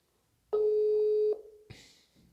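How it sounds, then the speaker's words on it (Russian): A single long ringback tone plays loud and steady for almost a second on an outgoing phone call, then a click and a faint hiss follow, with no talk. "мы можем попробовать ей позвонить."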